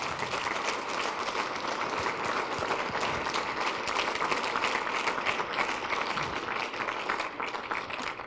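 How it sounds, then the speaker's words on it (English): Steady applause from a room full of people, a dense patter of clapping that holds at an even level throughout. "I want everybody to give these guys a round of applause."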